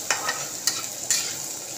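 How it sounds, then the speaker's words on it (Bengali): Whole spices, cinnamon sticks and cumin, are stirred in hot oil in a pan for kishmish katla kalia fish curry, with a steady soft sizzle and a few sharp scraping strokes of the spatula. "দিয়ে এবার নাড়তে থাকবো।"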